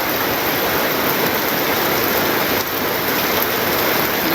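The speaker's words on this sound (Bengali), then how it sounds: "কত সুন্দর করে বৃষ্টি পড়তেছে" Steady rain pours down outside a verandah, a dense continuous hiss that stays loud and even throughout, with no voices.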